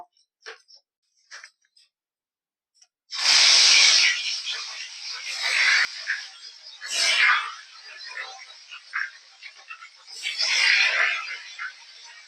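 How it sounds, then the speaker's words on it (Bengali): Fish pieces rubbed with salt and turmeric fry in hot mustard oil in a kadai, giving bursts of loud sizzling and spitting that swell and fade over several seconds after a quiet start. "মাছগুলো এবার ভেজে নেব"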